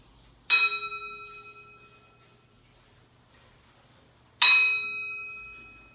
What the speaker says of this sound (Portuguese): Quem imaginou que teria um sino na tampa de panela?